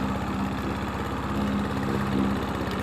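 A Toro Recycler 22-inch lawn mower engine running steadily after camshaft retiming, a close, continuous low chugging drone with even firing pulses and no voices.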